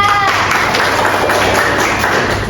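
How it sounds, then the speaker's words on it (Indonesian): Classroom applause for a student during a school guidance lesson, a dense steady wash of many hands clapping at once, loud and continuous with no voices over it. "Beri tepuk tangan pada Alifia."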